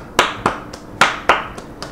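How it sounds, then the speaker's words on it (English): Several people clap in a short, loose round of applause, about six sharp claps spaced unevenly over two seconds, close and fairly loud, with no talking. "give him a round of applause"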